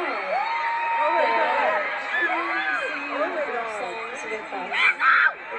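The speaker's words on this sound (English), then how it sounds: "we did not expect to have such a loud crowd here" Large concert crowd at a tour show, with dense sustained screaming and cheering, many high voices whooping together and rising to louder peaks near the end.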